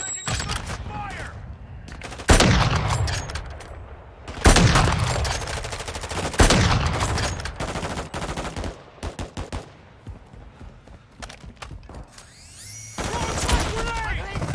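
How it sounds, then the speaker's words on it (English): Heavy gunfire in a Call of Duty Modern Warfare II DMZ match: repeated loud bursts and volleys of shots with booming impacts, while a player talks throughout. "Taking effective fire!"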